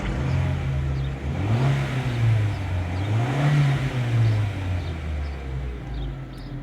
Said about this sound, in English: I'm going to snap the throttle real quick.